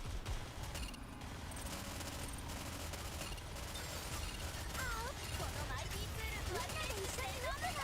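Steady rapid gunfire from Goddess of Victory: NIKKE rattles on continuously, mixed with mechanical clanks and bright whooshing game effects, while a person talks over it.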